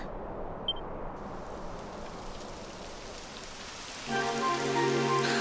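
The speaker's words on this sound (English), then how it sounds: "It would have to go and start raining, wouldn't it?" Steady rain hisses throughout in the video game Dragon Quest XI, a soft wash of drops with a brief beep early on; near the end a low droning tone swells in over the rainfall.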